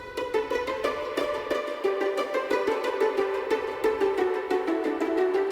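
High-register plucked strings in a muted pizzicato arrangement, playing a steady run of short, crisp notes in an even rhythm, up close and alone with no voices.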